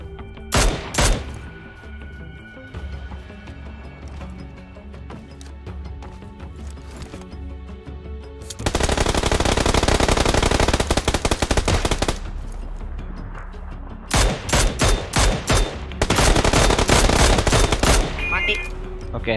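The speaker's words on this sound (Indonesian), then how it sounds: "Ada yang nembak tuh, yuk." PUBG Lite on PC gives sharp single shots early on, then long, loud bursts of automatic gunfire, a pause, and more rapid bursts near the end, all close and heavy.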